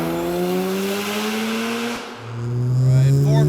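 A 650 HP Mazda RX-7 JDM car accelerating hard, its loud engine tone climbing steadily, dropping briefly at a gear change, then pulling upward again.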